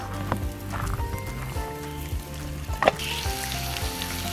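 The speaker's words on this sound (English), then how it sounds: "I woke up to a fire, which is a nice feeling when you're camping" Steady crackling and popping of a campfire on a cold camping morning, with scattered sharp snaps over a continuous hiss, close by and moderately loud.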